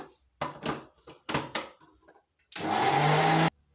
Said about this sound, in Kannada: ಅದಕ್ಕೆ ಒಂದಷ್ಟು ಉಪ್ಪನ್ನು ಇದ್ರ ಜೊತೆ ಹಾಕಿ ಪೂರ್ತಿ ನುಣ್ಣಗಾಗೋ ಹಾಗೆ ರುಬ್ಕೊಳ್ತಾರೆ.